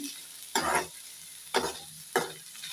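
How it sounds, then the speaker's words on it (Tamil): Onion and dried chillies sizzle in a hot pan, broken by three distinct stirring scrapes spaced about a second apart, close and clear with no talking. "அந்த வெங்காயம் காஞ்ச மிளகாவோட மிக்ஸ் ஆகிற வரைக்கும் நல்லா மிக்ஸ் பண்ணிவிட்டு"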